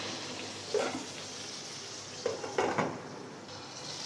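Garlic and chillies fry in a pan with a soft, steady sizzle, broken by a few brief clinks and stirring sounds, heard close but quiet.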